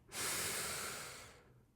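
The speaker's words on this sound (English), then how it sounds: "Take another deep breath in." A single deep, sustained inhalation during a guided breathing exercise, close and fairly loud, a breathy hiss lasting about a second and a half before fading into quiet.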